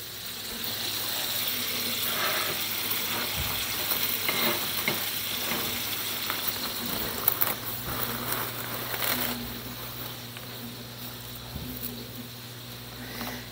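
Chopped bacon sizzles steadily in a pan, a continuous bright crackle with occasional stirring scrapes and light clatter, close and alone without talk.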